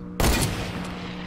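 A burst of gunfire in the Fortnite Battle Royale video game, a sharp loud crack followed by a brief rattling tail.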